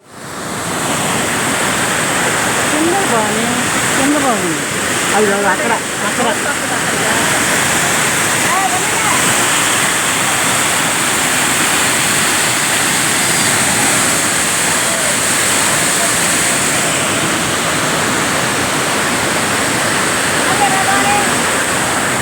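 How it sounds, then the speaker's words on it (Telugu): Roaring waterfall near Gupteshwor Mahadev Cave in Pokhara, Nepal, a loud, close, unbroken wash of rushing water that fills the whole stretch, with faint voices briefly audible early on. "జలపాతం సౌండ్ వింటేనే చాలా భయంకరంగా అనిపించింది కదండి."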